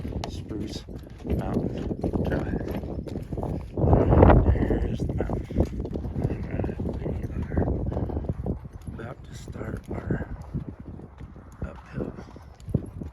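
A single horse walks along the Spruce Mountain Open Space trail near Larkspur, Colorado, its hooves clopping close under wind noise and a rider's talking.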